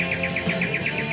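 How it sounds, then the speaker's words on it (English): Robin-like bird call from the quiz game You Don't Know Jack: a steady run of about ten rapid, evenly spaced chirps over a faint background hum, with no talking. "this is the North American Robin bird call"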